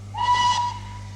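A steam train whistle sound effect gives one short clear tone with a breathy hiss, lasting about half a second over a low steady hum, close and alone.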